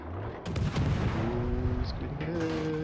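Naval guns fire in World of Warships: Legends as a destroyer shoots over a big island, with sharp booming salvos near the start, then rumbling and tonal sound effects under light game noise.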